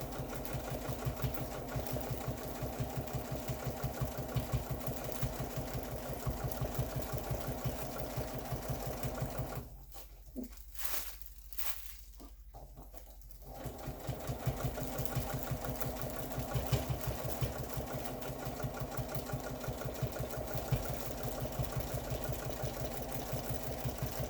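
Domestic sewing machine running steadily for pantograph quilting, a fast even mechanical whir that stops briefly near the middle, then resumes at the same pace.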